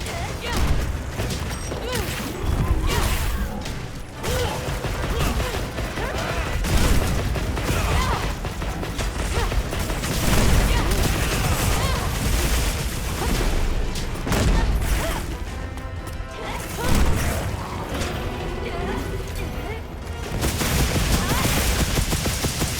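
A gun lance fires in a Monster Hunter Wilds hunt amid heavy combat, repeated explosive booms and metallic clanks in dense bursts, with a voice talking over the action.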